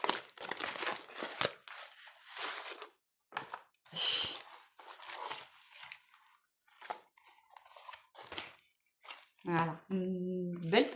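A bubble-padded envelope being opened and handled, with bursts of crinkling plastic packaging heard up close between stretches of someone speaking.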